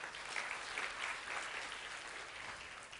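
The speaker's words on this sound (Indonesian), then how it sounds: "Tepuk tangan bagi kawan-kawan sekalian" An audience at an Islamic motivational talk breaks into sustained applause, a dense, even wash of clapping that holds steady throughout with no pauses.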